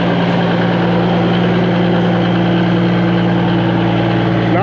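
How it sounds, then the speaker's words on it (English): A cab-over International truck with a Cummins 855 Big Cam diesel idles at a steam show, a loud, steady low rumble with a droning hum that holds constant throughout. "check out the cab over International. Sounds like an 855 big cam in there to me."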